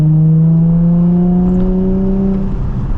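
A Nissan 350Z engine revs up close, a strong, steady droning note climbing smoothly in pitch for about two and a half seconds before easing off. No one speaks.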